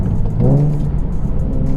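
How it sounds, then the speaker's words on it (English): A manual-transmission car's engine revs briefly as the driver blips the throttle while downshifting from fifth to fourth gear, a quick rising vroom over a steady close-up engine and road rumble inside the cabin. "you heard me blip the throttle"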